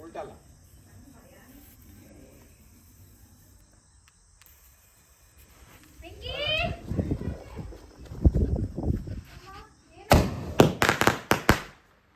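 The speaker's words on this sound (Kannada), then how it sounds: "ಅದು ಮೊದಲನೇ ಪಟಾಕಿ" Several sharp firecracker bangs go off close together near the end, after a stretch of quiet outdoor noise and some talk.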